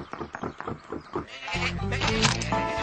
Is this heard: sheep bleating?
yes